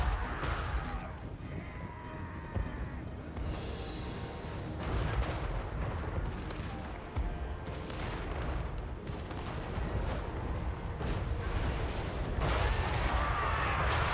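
Dwarf Grapeshot artillery in a video game battle, a dense, continuous roar of overlapping booms and crackling gunfire with repeated heavier blasts throughout, loud and close with no pauses.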